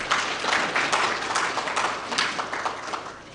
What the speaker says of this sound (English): May I request all the delegates to give a big round of applause to welcome our today's distinguished guests